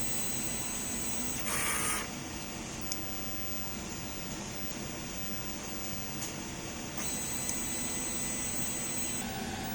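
A DTF printer running a head cleaning cycle gives a steady, loud mechanical whir with a brief higher-pitched whine near the start and again later, continuous and close, with no talk.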